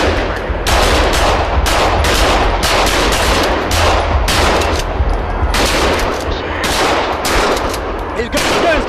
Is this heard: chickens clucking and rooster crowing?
no